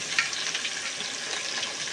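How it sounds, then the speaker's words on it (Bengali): Chopped onions sizzle in hot oil with whole garam masala as mutton kosha is cooked, producing a steady close frying hiss with small crackles, continuous and unbroken with no speech. "গরম মশলাকেই গরম করে তারপরে আমি এই পেঁয়াজ কুচি করা দিয়ে দেবো"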